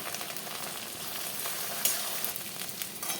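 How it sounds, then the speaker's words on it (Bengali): Okra frying in hot mustard oil in a pan, a steady close crackling sizzle that runs the whole time with a few sharper pops and no voices. "ভেন্ডিটাকে লাল করে ভেজে নেব"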